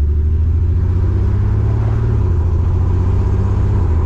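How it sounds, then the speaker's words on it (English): A VW Thing engine with a misfire revving steadily and loudly, a rough, uneven throb that carries through the whole short stretch. "Oh yeah, that misfire's still there."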